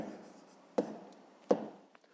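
Hand writing numbers during a fifth-grade maths exercise, a faint scratch of pen or pencil on paper with two sharper taps, close and quiet.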